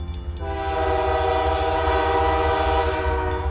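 A train sounds its horn on a railroad, a loud sustained multi-tone blast over heavy rumbling wheels on the track, steady and close throughout.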